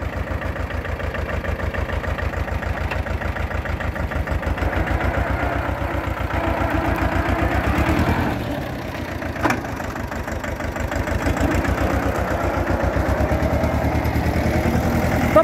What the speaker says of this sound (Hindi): वाहन तो खूब अच्छा कर रहा ट्रैक्टर।